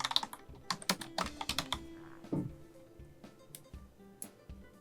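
Text is typed on a computer keyboard during After Effects work: a quick cluster of close, crisp key taps, then a pause and a few scattered clicks, with no voices.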